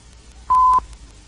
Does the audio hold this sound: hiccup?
no